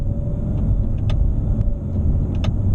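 A 2017 Honda Civic hatchback drives along, its engine a steady low rumble close by, with a few brief higher-pitched clicks and rattles over the top and no talking.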